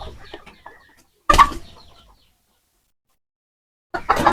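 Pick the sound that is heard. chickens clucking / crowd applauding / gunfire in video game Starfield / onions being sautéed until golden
chickens clucking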